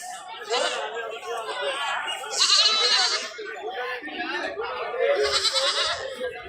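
Small breed goats at a livestock market bleat amid continuous crowd chatter, their calls rising in two louder bursts over the busy murmur.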